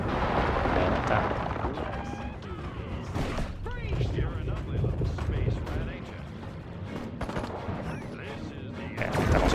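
Dense gunfire and explosive blasts in the video game Destroy All Humans! (2020) rattle continuously with booming impacts, while a voice talks in Spanish over the chaotic battle noise.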